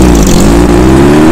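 The 1.7-litre boxer engine of an Alfa Romeo 33 QV revs hard up close, a loud, rich, continuous growl with steady low harmonics and no voices.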